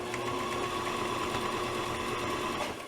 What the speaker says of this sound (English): Stitch over it a little bit and back stitch.